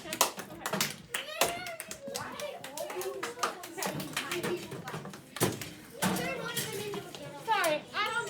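Children in a 5th grade math class give a round of applause, with scattered irregular claps amid excited children's voices and chatter in a classroom.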